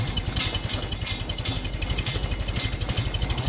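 A vintage Farmall M tractor engine chugs at a slow, even idle, a close, loud rhythmic thumping with a rattling clatter on top.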